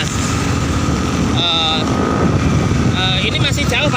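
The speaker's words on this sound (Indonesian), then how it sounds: "suaranya keras sekali ya motor kita" A loud motorcycle rides through the streets of Denpasar, Bali, its engine droning steadily under heavy wind rush, with speech over it and brief higher tonal sounds like horns or voices passing.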